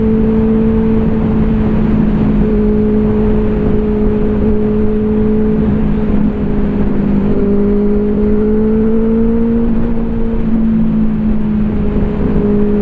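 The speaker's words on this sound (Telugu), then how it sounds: "యారో స్లిప్ ఆన్ ఎగ్జాస్ట్ ఇది" A brand-new Benelli 600i-type sportbike fitted with an Arrow slip-on exhaust idles and revs steadily nearby, a loud sustained engine drone with slight pitch rises and no talking.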